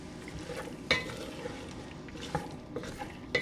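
Cooked sausage and pasta being stirred together in a big pot with the heat off, giving soft scraping and stirring sounds with a few sharper clinks of a utensil against the pot, fairly quiet and with no talking.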